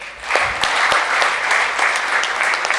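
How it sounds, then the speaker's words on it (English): A dense burst of audience applause at a literature festival session, many hands clapping steadily and fairly loud for a few seconds with no talking. "big round of applause."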